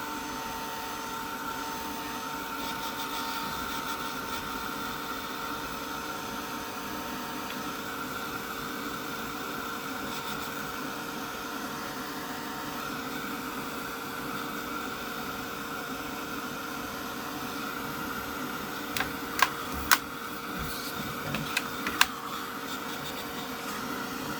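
A heat tool blows hot air to dry wet ink on a stamped card, a steady, even whooshing drone that runs nearly unbroken throughout, with a few brief clicks near the end.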